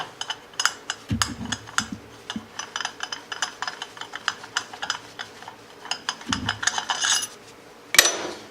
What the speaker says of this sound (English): Unthread your clutch puller.